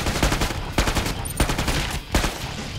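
Medic gun firing in Killing Floor 2: about four sharp, heavy shots at an uneven rhythm, loud and close, with no talk.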